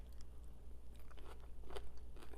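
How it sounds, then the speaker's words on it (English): Crunching bites and chewing on pickles during a cheap summer meal, several short crisp bursts spread unevenly through a quiet, close-up stretch with no talking. "with the pickles add such a nice just crunch factor"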